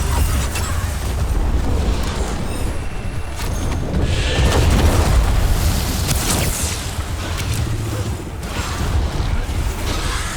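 Bomb blasts in the video game Dragon Age Veilguard, heavy booming bursts swelling over continuous combat noise, with a couple of loud eruptions rolling through the middle and no clear speech.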